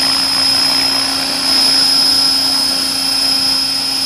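An AH-1 Cobra scale RC model helicopter hovers on its maiden flight, its rotor and motor giving a loud, steady, high-pitched whine with a constant buzz throughout, close by and alone.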